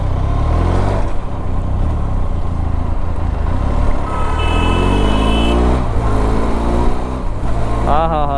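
A Benelli TRK 502X motorcycle being ridden after a service, its engine droning steadily and rising in pitch as it revs and shifts through gears, loud and close with wind noise.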